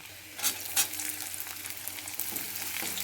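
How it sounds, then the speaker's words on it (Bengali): Chopped onion, garlic and green chilli fry in a pan for a dhaba-style egg tadka, sizzling steadily up close, with a few louder crackles and spatters as the mixture is stirred. "পেঁয়াজটাকে হালকা করে ভাজবো"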